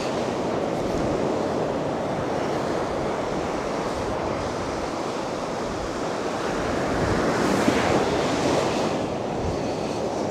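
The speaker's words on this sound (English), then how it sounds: "And the sea was crashing in." Sea waves crashing steadily onto a soft sandy North Sea beach near Anderby Creek, a continuous loud broadband surf roar with wind buffeting the microphone and a slight swell in intensity toward the end.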